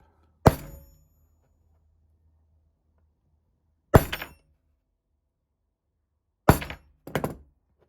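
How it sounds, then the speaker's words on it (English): A hammer strikes a center punch made from a fresh steel point, three sharp separate taps, the last one followed quickly by a second lighter tap, each ringing briefly and then decaying into quiet. "Just make one sharp tap."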